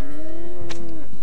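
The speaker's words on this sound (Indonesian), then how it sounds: "Suara sapi." A single low, drawn-out cow moo sounds close and clear, with a short click partway through, in the video game Harvest Moon: Hero of Leaf Valley.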